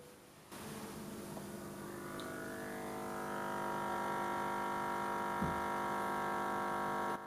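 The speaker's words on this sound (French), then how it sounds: "On entend très bien le rayonnement du 50 Hz." Steady 50 Hz electromagnetic hum radiating from an electrical sheath behind a wall switch, picked up by a pollution detector; a continuous buzzing drone with stacked harmonics that starts abruptly and grows slightly stronger as the sensor moves closer.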